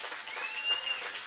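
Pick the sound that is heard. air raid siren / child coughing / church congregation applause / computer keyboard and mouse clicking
church congregation applause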